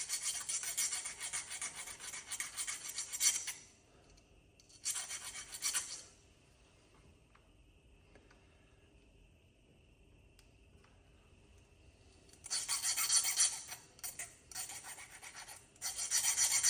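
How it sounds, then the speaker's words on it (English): Metal file rasping across the burred ends of a guitar fret, worked off the instrument, in two bursts of quick back-and-forth strokes with quiet pauses between, close and fairly loud. "I'll go ahead and file it round, file the burrs off"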